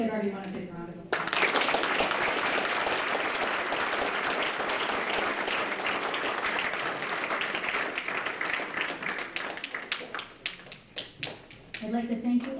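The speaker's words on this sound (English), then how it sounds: "let's give everyone a big round of applause" Applause breaks out at a Homer Glen village board meeting, the room clapping steadily before it thins into scattered claps and fades, with a voice speaking before and after.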